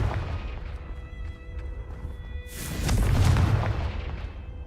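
A Confringo fire-blast spell in Hogwarts Legacy erupts as a deep, booming explosion with a sharp crackling burst that swells and then rumbles away, heard alone without talk.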